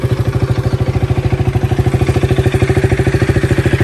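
A KTM 200 Duke BS4 motorcycle engine idles close by with a fast, even single-cylinder thump, loud and steady throughout without any voices.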